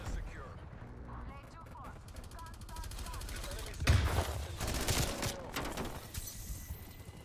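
Bursts of PPSh submachine gun fire in a video game crackle through a busy battle mix, with rapid rattling volleys and a heavy boom partway through, under a player's voice.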